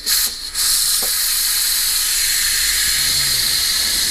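A pressure cooker venting its steam in one loud, continuous hiss, close and harsh, briefly dipping near the start before holding at full force to the end.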